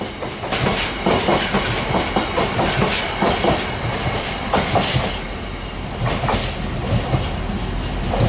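A freight train of empty biomass wagons passes close by, returning from a coastal power station, with steady rumble and continuous clickety-clack of wheels over rail joints on a windy day.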